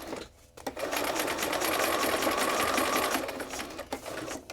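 Sewing machine stitching through paper bookmarks with a long stitch length, a steady loud rapid whir held for several seconds close by, starting and stopping abruptly.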